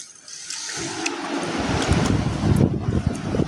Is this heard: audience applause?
no